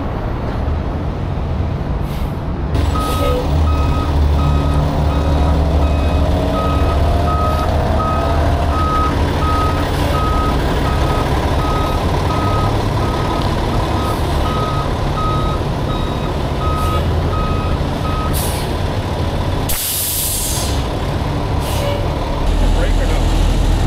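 A vacuum truck at a freeway fuel-tanker crash cleanup reverses with a steady run of evenly spaced backup beeps over a loud diesel rumble, with an air-brake hiss near the end.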